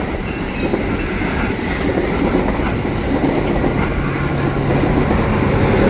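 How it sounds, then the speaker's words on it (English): A commuter train rolls past close by with a steady, loud rumble of wheels on rails, faint clickety-clack and a thin wheel squeal running under it, unbroken throughout. "It's a commuter train."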